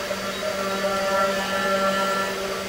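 A Sainsmart Genmitsu 4040 Pro CNC router carves with a cheap 60-degree V-bit, giving a loud steady spindle whine with a constant tonal hum throughout.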